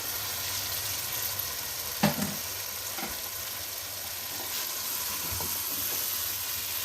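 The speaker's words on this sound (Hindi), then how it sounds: "फिश के सिरों को भी हमने तकरीबन 10 मिनट तक अच्छी तरह से भूनना है" Fish heads sauté in masala in a pan, giving a close, steady sizzle and hiss broken by a few scraping stirs and clanks, with no talk.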